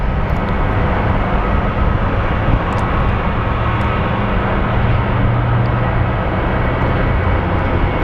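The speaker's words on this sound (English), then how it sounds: "And this is a Neo. You can tell by the size of the engines." An Airbus A320neo airliner's engines roaring steadily at Phoenix Sky Harbor airport, loud and continuous broadband jet noise with a low rumble throughout, no voices.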